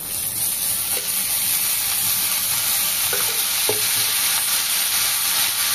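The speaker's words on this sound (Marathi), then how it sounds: "तर इथे मी गवार आधी तेला मिठामध्ये फ्राय करून घेणार आहे।" Cluster beans sizzle loudly and steadily in hot oil with salt, with a few soft clicks from stirring in the pan.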